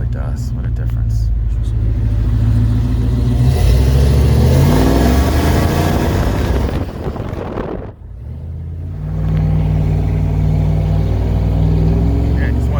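A 1992 Chevrolet 454 SS pickup's big V8 revs hard, a deep loud rumble swelling and holding, dipping briefly before roaring back, close and dominant.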